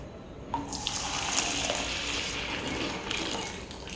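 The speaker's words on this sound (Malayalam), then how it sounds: "എടുത്തു വെച്ചിരുന്ന ഈ ഫെർട്ടിലൈസർ ഒരു ബക്കറ്റിലോട്ട് ഒഴിക്കാം" Liquid plant fertilizer pours steadily into a bucket, a continuous splashing gush starting after a brief pause and running to the end.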